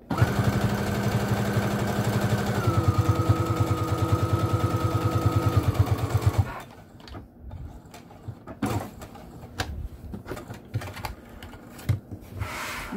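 A sewing machine runs steadily through fabric for a bowl holder project, a fast even motor whir and stitching rattle for about six seconds before stopping, followed by quieter handling clicks and rustles.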